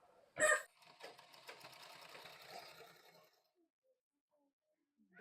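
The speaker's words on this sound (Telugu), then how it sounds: "సైడ్ స్టిచ్చింగ్ చేస్తున్నాను." A home sewing machine stitching the side seam of an umbrella frock, a short close burst of rapid stitching that starts with a sharp clunk, then fades out into near silence.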